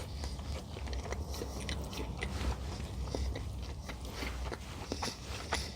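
Someone bites into and chews a Taco Bell steak mini Crunchwrap, giving a run of quiet, close crunches and crackles over a low background rumble.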